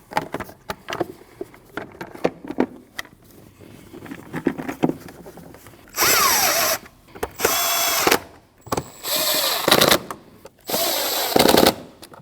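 A power tool tightens a hose clamp on a 2013–2019 Ford Escape. Four loud, rapid bursts of rattling come close up, each lasting about a second, with quieter clicks and handling noises before them.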